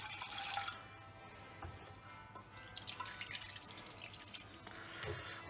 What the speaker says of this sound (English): Now we will be adding about 200 ml of water into this.